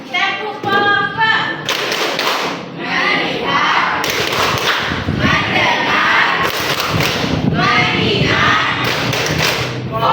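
A group claps hands together in a rhythmic 'tepuk papa' clapping game during a classroom stretching break, sharp bursts of claps alternating with spoken chanting voices.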